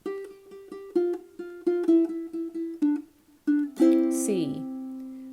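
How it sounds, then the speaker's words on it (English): Acoustic guitar plays a riff at full tempo, a run of crisp plucked notes and chords in a quick rhythm, ending on a ringing strummed chord that slides and fades, heard alone and close. "So the riff sounds like this up to speed."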